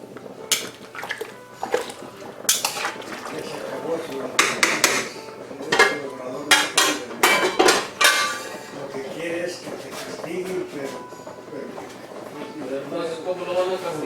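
Pickled pork skins being stirred in a pot, with repeated clanks and scrapes of a utensil against the pot, under ongoing close talk.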